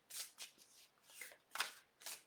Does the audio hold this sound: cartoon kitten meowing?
no